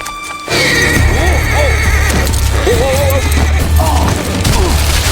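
A horse neighs and whinnies repeatedly in a scene from a Walking Dead episode, loud and close over hoof clatter and a dense background.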